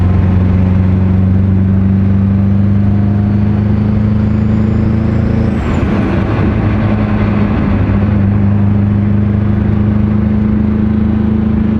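A Mitsubishi Evo engine runs steadily near 2,000 RPM, loud and close, with a deep continuous drone and a brief rise in revs around the middle before it settles back to an even hum.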